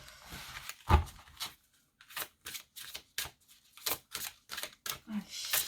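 Tarot cards shuffled in bursts, crisp papery flicks and slaps spaced irregularly, close and moderately quiet, with a voice speaking between them.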